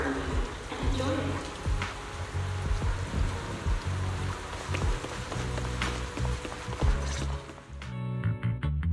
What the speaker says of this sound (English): As you listen to the rain, does it feel like the road is slowing down?